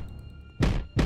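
Hits land on enemies in the video game Interstellar Prime as two dull, squelchy thumps about a third of a second apart over a faint background hum, with no speech.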